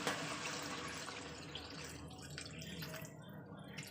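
Water poured into a pan of spiced potatoes being cooked, a continuous splashing, gurgling pour at moderate volume that tapers slightly toward the end, with no talking.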